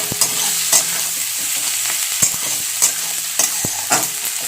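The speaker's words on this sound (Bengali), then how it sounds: "আমি একটু পেঁয়াজগুলো ভেজে নেবো, একেবারে লাল করবো না" Onions fry in a pan for spicy semolina upma, giving a bright continuous sizzle. Spoon scrapes and taps against the pan punctuate it every second or so, close and fairly loud.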